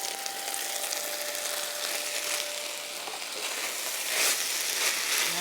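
Chopped red pepper and green onions sizzle steadily in a hot pan for mu shu wonton cups, with a constant close frying hiss and a brief louder burst of sizzling near the end.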